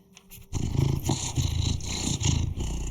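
A fluffy cat named Augustus purring in the game Cabernet, a loud, close, steady rumbling purr with rhythmic pulses that begins abruptly after a short quiet moment and continues throughout.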